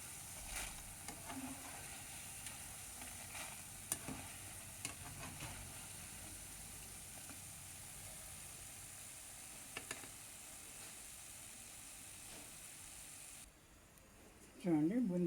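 Hot oil frying boondi batter, a continuous faint sizzle and hiss throughout with occasional small clicks of utensil contact, recorded close but at low level, with a short voice-like sound at the end.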